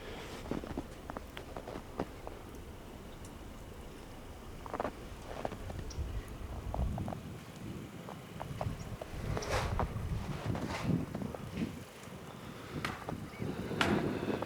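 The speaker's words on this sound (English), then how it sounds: "the wind is starting to pick up again" Wind gusting outdoors in a residential neighborhood after a 2018 blizzard, a steady broadband rush with swelling gusts and scattered crunchy footstep-like noises, no speech.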